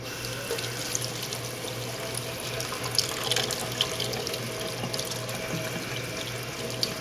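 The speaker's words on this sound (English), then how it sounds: "Cool water, and I just run the water over it." Cool tap water runs steadily over cross-stitch fabric to wash out grid lines, a close, continuous splashing hiss into a sink, with no talk.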